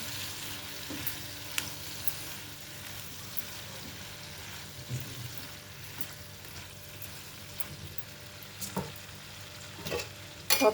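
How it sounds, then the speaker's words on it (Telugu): Eggplant frying with turmeric in a pan sizzles steadily while a spoon stirs it, with soft scraping strokes and a few sharper clinks standing out over the constant crackle. "మొత్తం అన్నీ ఒక్కసారి కలిపేసుకుందాం."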